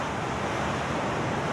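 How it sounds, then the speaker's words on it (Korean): Rough, heavy waves on the East Sea coast of Korea at Uljin Jukbyeon, a steady dense roar of surf and spray filling the whole moment, loud and continuous with no voices. "하면서 동해안의 거센 파도를 바라보았습니다"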